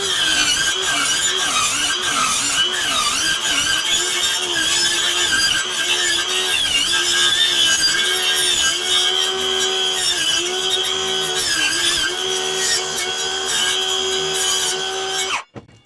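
A power saw slices across wood in steady back-and-forth passes, a loud continuous whine with a wavering pitch lasting about fifteen seconds before cutting off abruptly; no talk.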